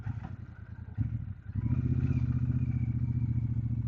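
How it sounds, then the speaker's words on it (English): A Royal Enfield Super Meteor 650 fitted with Hitchcock's risers rumbles along as it is ridden, its engine note steady and close after a brief dip, with a low throbbing drone. "It's like riding a different motorcycle actually."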